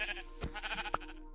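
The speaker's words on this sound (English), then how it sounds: "sheep!" A sheep in the Minecraft video game bleats in a short, wavering cry up close, with a faint click near the end.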